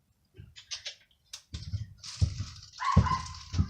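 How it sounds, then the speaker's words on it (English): Dogs barking indoors while someone works on restoring an old bird feeder, a few sharp close barks and whimpers in short bursts with clatter between them. "Dogs are going off."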